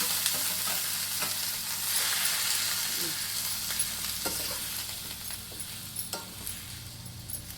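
Greens stirred and frying in a hot pan of tempering, a steady close sizzle broken by scraping stirs and light clinks of the spatula against the pan.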